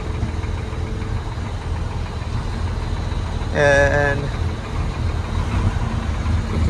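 An old, worn 1961 GMC truck's 401 V6 engine idles with a rough, knocking rumble, steady and close; a short voiced sound briefly rises over it midway.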